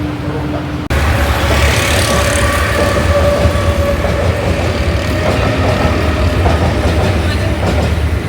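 After an abrupt start, a Mumbai local train rumbles past loudly and close, a continuous heavy rolling roar with faint rail clatter throughout, with some voices in the background.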